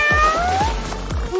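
A person's voice imitates a cat meowing, giving a few short, rising and falling meows close up, with no other talk.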